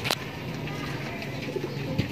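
A racing pigeon coos softly amid steady outdoor background noise at a pigeon race, with a couple of faint bird calls standing out briefly.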